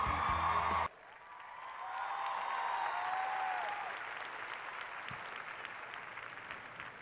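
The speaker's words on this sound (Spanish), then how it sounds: "Recibamos con un aplauso a César Évora y Daniela Castro." A large awards-show audience at the Latin Grammys breaks into broad sustained applause for arriving presenters, rising into a full roar of many hands after a brief cut, then holding steady and slowly thinning.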